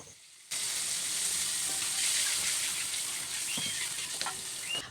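Tilapia frying in hot oil in a home kitchen, a loud, steady sizzle with crackling pops that starts abruptly after a brief quiet moment and continues unbroken, close up, with no talk.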